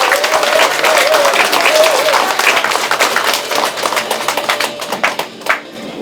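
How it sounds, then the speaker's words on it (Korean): At a candidate's campaign office opening in Yecheon, a large crowd of residents claps loudly to welcome a local assemblyman to the podium. The dense applause thins and scatters toward the end while an amplified voice carries through. "박수로 모시겠습니다"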